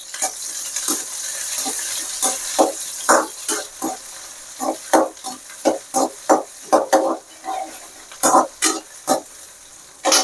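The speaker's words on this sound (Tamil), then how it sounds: "சின்ன வெங்காயத்தை நல்லா வதக்கிக்கிறோம்" Small onions (shallots) sautéing in a pan for a field snail gravy, with repeated sharp scraping and stirring strokes from a spatula over a soft, steady sizzle, close and fairly loud.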